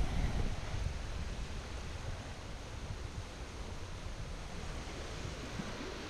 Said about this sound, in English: There is the river.